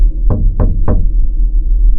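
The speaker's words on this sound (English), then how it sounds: "At 12:07, someone knocked once." Three quick, evenly spaced knocks on a door, loud and close, sound against a steady low rumble, followed by a stretch of quiet hum.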